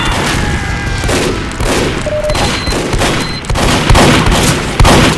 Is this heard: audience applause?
no